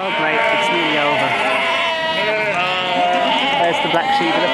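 Sheep on an Exmoor road bleat loudly and close by, overlapping, drawn-out calls filling the whole stretch.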